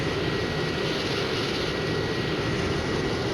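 An A-4 jet engine at cruise in the Strike Fighters flight sim video game: a steady, loud, broadband roar with a faint constant whine, unbroken and unchanging throughout, with no voices.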